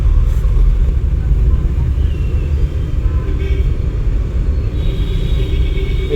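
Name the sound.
car engine accelerating during driving lesson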